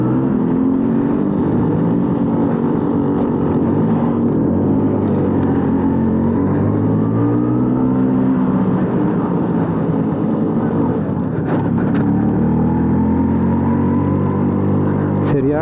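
A 1990 LML Vespa NV two-stroke scooter engine buzzes loud and steady while riding, its pitch climbing and dipping as the throttle opens and eases, with wind rush throughout.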